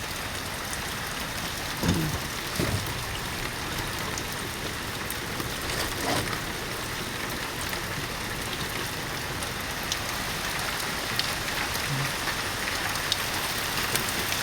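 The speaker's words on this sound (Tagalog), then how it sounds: "lakas ng ulan dito po mga idol sa Quezon City" Heavy rain pours steadily in Quezon City, a dense, even hiss of drops hitting surfaces throughout with a few slightly louder spatters and no voices.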